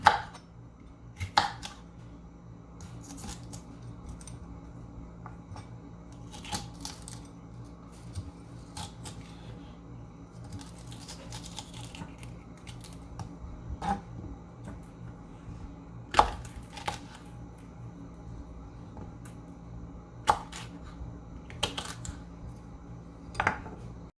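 Knife cutting through 41 chili peppers on a board, a run of sharp close clicks and chops at irregular intervals over a steady low background hum.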